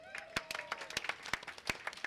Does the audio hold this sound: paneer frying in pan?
no